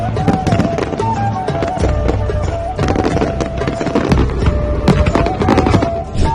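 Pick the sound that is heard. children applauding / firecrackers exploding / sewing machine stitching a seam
firecrackers exploding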